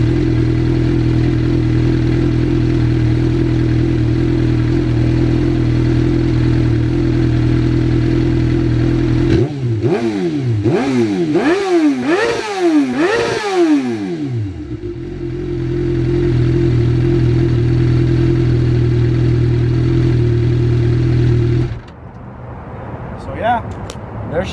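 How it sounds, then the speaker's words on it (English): A Suzuki GSX-R motorcycle with an M4 slip-on exhaust, already warmed up, idles loudly and steadily, then gets several quick sharp revs in a row before settling back to idle and cutting off near the end. "You can go ahead and give it a couple revs. Let you guys hear what it sounds like."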